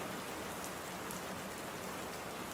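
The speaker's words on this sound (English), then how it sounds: "Rain, rain, rain." Dense, even rainfall patters on surfaces, a steady full hiss of many drops with no pauses and no voices.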